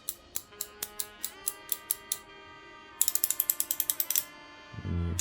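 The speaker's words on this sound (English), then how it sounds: "Let's take a listen at this 72 degree mechanism, ratcheting mechanism." A Craftsman V-Series 72-degree ratcheting wrench clicks through its mechanism in two quick bursts of evenly spaced metallic ticks, close and crisp, followed by a short low rustle at the end.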